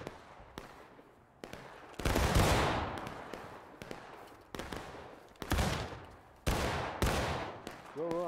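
Musket volleys in a Civil War battle video game, repeated sharp cracks and rolling bursts of gunfire at varying distances, some close and loud, others scattered and faint, with a brief voice at the end.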